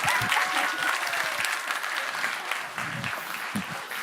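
A church congregation applauds steadily during a Sunday worship service after a song, a dense, even wash of many hands clapping that holds for several seconds.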